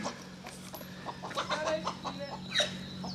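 Chickens clucking in short, scattered bursts, fairly close, with a steady low hum running underneath.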